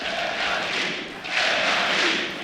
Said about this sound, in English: The home crowd cheering for the Ninjas in Pajamas